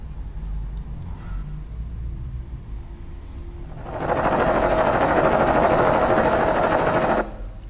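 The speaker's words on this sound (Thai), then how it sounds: "อันนี้น่าจะเป็นเฮลิคอปเตอร์นะครับ" A helicopter's rotor throbs in a dense, fast chopping drone that rises abruptly after a quieter rumbling stretch, holds loud and close for a few seconds, then cuts off.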